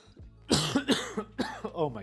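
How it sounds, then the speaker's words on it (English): A person coughs several times in a quick, close series of harsh bursts, with some throat-clearing mixed in. "I'm so tired of coughing all the time."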